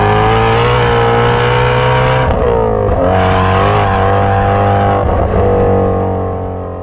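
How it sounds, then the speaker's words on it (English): A Shelby GT350's flat-plane-crank V8 roars loud and close, revving hard with rising and dipping pitch through several shifts, sustained and aggressive before easing slightly at the end. "The GT350 provides such an experience because of the flat plane crank engine and the sounds"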